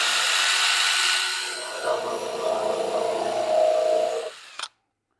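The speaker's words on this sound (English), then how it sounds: "I'm going to go ahead and drill for regular wood screws" A power drill whirs loudly driving wood screws into a dresser case, pitch dropping as it bites, then stops abruptly near the end.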